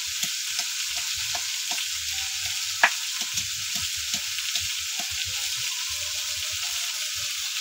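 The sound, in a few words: stir-frying vegetables with salt and turmeric in a pan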